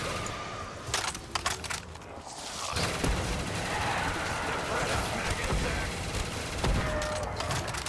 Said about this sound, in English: This gun is an absolute monster.